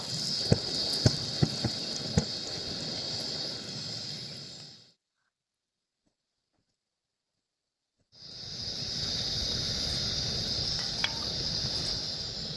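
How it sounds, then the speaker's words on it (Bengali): Malpua batter made with puffed rice (khoi) sizzles steadily in hot oil, a dense crackling fry that cuts out for a few seconds midway and then resumes just as strongly. "এইটাকে আমি হালকা লাল লাল করে ভেজে নেব"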